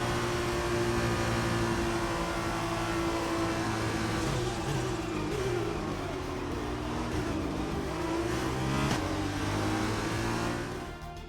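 An Arden Formula 2 race car in the F2 2020 video game at the Bahrain GP rolls into parc fermé after the race, its engine droning steadily and loudly with gentle rises and falls in revs before fading slightly at the end.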